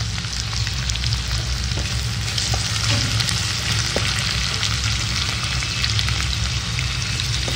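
Onion frying in oil with curry leaves and garlic, a dense, even sizzle and crackle running unbroken and close, with faint occasional stirring sounds and no voices.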